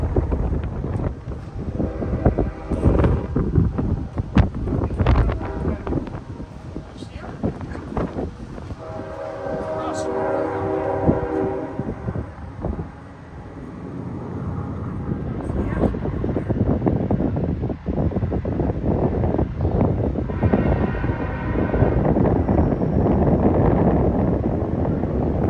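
A CPKC freight train led by three locomotives, including a KCS unit and an SD70ACU, rumbles past close by with rolling wheel and car noise, a brief horn, heavy wind buffeting the microphone and a voice speaking in places.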